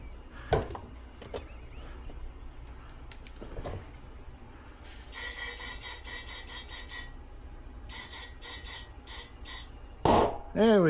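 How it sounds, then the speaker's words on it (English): Air hisses in pulsing bursts into a riding mower tire, then the bead snaps onto the rim with a sudden loud pop near the end, recorded close in a quiet space. "Need to add a little more air to get this side to pop."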